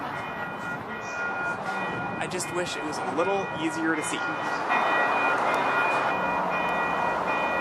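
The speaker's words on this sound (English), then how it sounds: "Finally, the train arrives at Redmond Technology Station." A Seattle 2 Line light rail train arrives at Redmond Technology Station, a steady broad rumble and hum with a brief chime-like tone midway, while a person talks over it.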